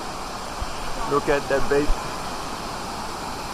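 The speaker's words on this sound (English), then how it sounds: "So we are at Wachirathan Waterfall." Rushing water from Wachirathan Waterfall in Chiang Mai forms a steady, even roar that fills the whole clip. A person speaks briefly over it.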